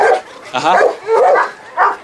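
Several dogs bark and yip in loud, close bursts, roughly four separate outbursts over two seconds, with some whimpering mixed in.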